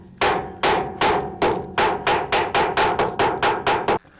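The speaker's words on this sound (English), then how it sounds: "I need my chip hammer." A chip hammer strikes a rusty vehicle chassis about a dozen times in a steady, quickening rhythm of loud, ringing metallic blows, close up and alone.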